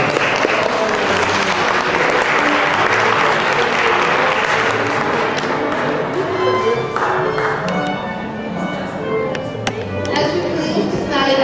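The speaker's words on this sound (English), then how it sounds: "could we just have a wonderful round of applause for Carol and Nancy for their efforts." A loud, dense round of applause fills an evening gathering of a nonprofit organization, sustained for several seconds before thinning into scattered, sharper individual claps near the end.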